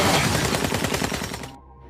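Rapid burst of automatic gunfire raking a car in a film scene, loud dense shots in quick succession that cut off abruptly into silence.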